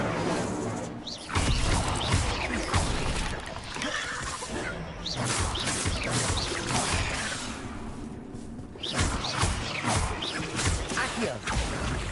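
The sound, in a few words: Incendio fire spell cast, Hogwarts Legacy video game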